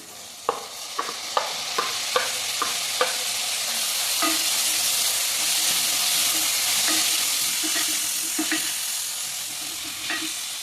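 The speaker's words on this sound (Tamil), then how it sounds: "இப்போ தக்காளி ஆட் பண்ணி வதக்கிக்கலாம்" Onions and tomatoes sautéing in a pan for a simple egg curry, sizzling steadily up close, with a quick run of spoon taps and scrapes at first and then slower stirring strokes scattered through the hiss.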